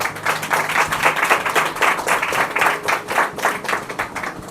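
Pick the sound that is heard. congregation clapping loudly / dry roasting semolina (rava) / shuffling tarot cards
congregation clapping loudly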